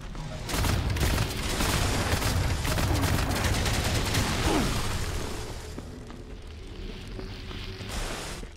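Explosions and rapid gunfire in the video game WRATH: Aeon of Ruin form a dense, loud barrage for about five seconds, then ease into a quieter rumbling tail.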